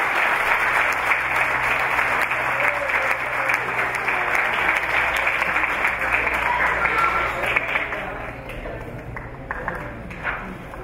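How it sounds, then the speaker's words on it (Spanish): An audience at an awards ceremony for young champions applauds, a sustained wash of many hands clapping that continues for several seconds and thins slightly toward the end, with some voices in the crowd. "un aplauso para ellos"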